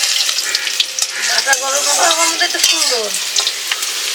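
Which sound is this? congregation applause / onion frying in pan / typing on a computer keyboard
onion frying in pan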